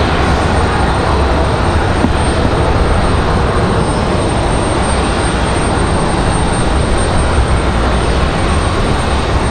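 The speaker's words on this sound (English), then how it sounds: "It's going to be a United Express E175" Mesa Airlines United Express Embraer E175 regional jet at Raleigh-Durham airport, a continuous dense engine roar at even, loud level from start to finish with no talking.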